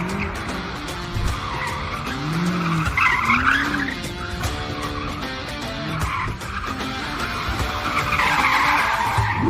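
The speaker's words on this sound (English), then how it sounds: "here's another montage of me hooning around in an M5 competition." A BMW M5 Competition driven hard in rear-wheel-drive mode, tyres squealing and skidding in repeated rising and falling howls over loud engine revving, close by and with no talking.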